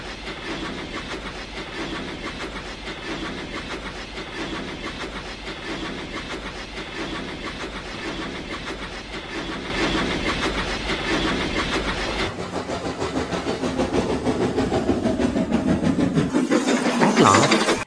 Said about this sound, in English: So the fireman lit the fire and made a nice lot of steam. Then the driver pulled the lever and Edward puffed away.